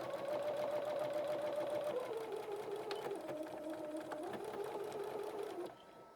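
A home sewing machine runs a continuous chain of stitches across fabric squares for a pumpkin t-shirt. The motor whirs close and steady, dips in pitch briefly partway through, then stops near the end.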